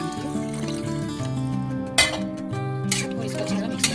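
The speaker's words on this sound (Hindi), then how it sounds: "अब इसमें हम डालेंगे पानी।" Water splashes into a pot of rice in two short bursts over steady background music, with a faint clink of cookware.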